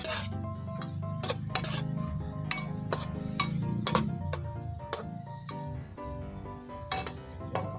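Mushrooms and sardines sauté in a hot pan, with steady sizzling under repeated sharp metallic clinks and scrapes of a utensil stirring against the pan, close and continuous, no voices.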